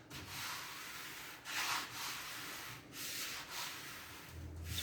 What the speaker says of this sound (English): When I rub it back the other way